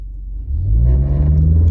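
A 2020 MINI Countryman JCW ALL4 launching under launch control: a deep engine rumble that swells and rises in pitch as the car pulls away, loud and close.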